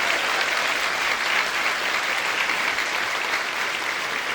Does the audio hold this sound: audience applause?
yes